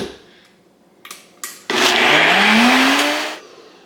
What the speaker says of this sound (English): to keep the blender going